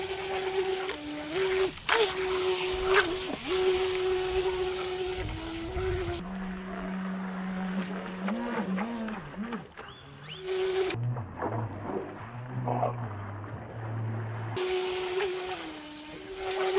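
A ProBoat SprintJet RC jet boat on a 2S battery races across water, its high whining motor rising and falling with throttle changes and sweeping pitch bends, moderately loud and continuous, with no voices.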